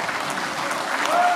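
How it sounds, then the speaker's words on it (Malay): Audience applause at a PERKASA assembly closing session, a dense wash of clapping sustained through the short clip at steady, moderately loud level. "Bagi tepukan gemuruh kepada perkasa."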